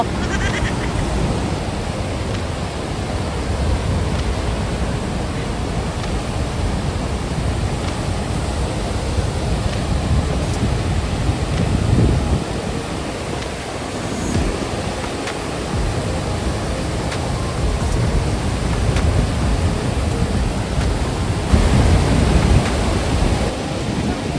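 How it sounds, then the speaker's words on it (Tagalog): Loud, constant roar of rushing water fills the whole stretch, dense and unbroken, at the Rhine Falls waterfall in Switzerland. "Malakas yung daloy ng tubig. Nanggagaling sa bundok."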